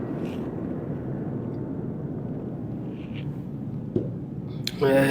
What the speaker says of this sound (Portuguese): Espera que vai passar um jato aqui em cima de casa.